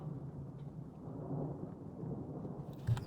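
A low, continuous thunder rumble from the Russian Fishing 4 video game fills a few seconds, moderately loud and steady, with a faint wash of rain beneath it.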